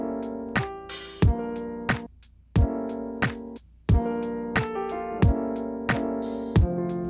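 A third café jazz loop section programmed on a K.O. sampler, with steady thumping kicks, bright hi-hat-like hits and sustained jazzy chord tones, the beat briefly dropping out before resuming, no voices.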